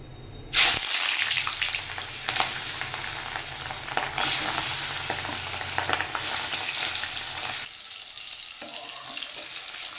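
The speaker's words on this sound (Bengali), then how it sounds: "এবার মাছগুলো ভেজে নেব" Boal and tengra fish, washed and rubbed with turmeric and salt, drop into hot oil with a sudden burst of sizzling that settles into a steady, close crackling fry, briefly dipping before continuing.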